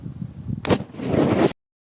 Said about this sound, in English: here's a video of a charged up lithium ion battery being stabbed